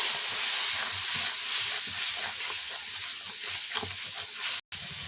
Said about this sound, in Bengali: পরিমাণ মতন হলুদের গুঁড়ো এবং পরিমাণ মতন লবণ দিয়ে মশলাটাকে ভালো করে আমি কষিয়ে নেবো